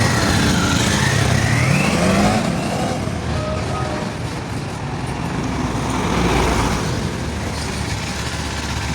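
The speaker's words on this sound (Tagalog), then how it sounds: "Heto na kaya ang adventure bike na pantapat ni Kawasaki." Kawasaki KLE500 adventure motorcycle, heard as a steady engine hum blended into general road and traffic noise, moderately loud throughout with a slight swell partway through.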